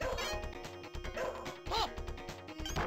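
Shadow Dancer arcade game: the ninja's dog attacks, with short barking and yipping bursts from the game over chiptune-style music and effects, repeating several times.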